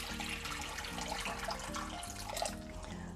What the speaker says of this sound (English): I'm gonna put some more water in it.